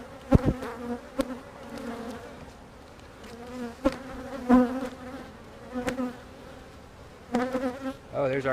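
Honey bees buzzing in an opened hive during a split check, a steady close drone with pitch shifting as individual bees pass near, with sharp clicks and knocks from hive handling.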